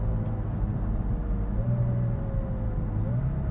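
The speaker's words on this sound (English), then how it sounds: "If we slow down, it's going to downshift" A 2017 McLaren 570GT slowing in automatic mode, engine note dropping with a smooth downshift partway through; steady low road and engine rumble throughout, no talking.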